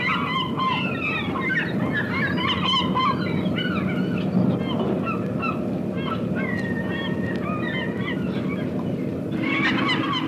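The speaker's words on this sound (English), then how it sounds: "the carping, querulous cries of the ever-present, always hungry seagulls that wheel and circle overhead" Seagulls wheel over the Boston seaport, letting out repeated harsh, squawking cries above a steady waterfront rumble, and a voice speaks beneath them.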